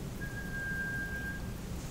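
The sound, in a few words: person whistling a tone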